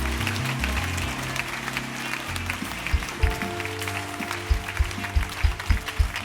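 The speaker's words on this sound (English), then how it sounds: "Clap your hands louder." Congregation clapping hands at a lively church service, rhythmic claps growing louder over steady music with a deep bass line and keyboard tones, the clapping becoming more prominent toward the end.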